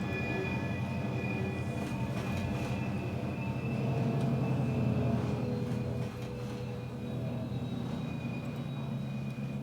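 An RS-11 diesel locomotive runs steadily, a continuous low engine drone with rumbling wheels and faint high tones, loud and close throughout without a break in the sound.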